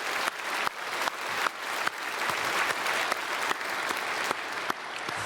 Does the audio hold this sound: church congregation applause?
yes